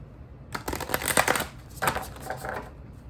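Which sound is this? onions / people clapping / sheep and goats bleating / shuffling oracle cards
shuffling oracle cards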